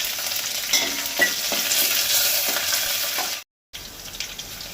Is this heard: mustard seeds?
yes